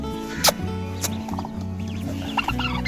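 A broody hen sitting on eggs clucks softly and repeatedly nearby, with a few sharper squawks breaking through the low, rhythmic calls.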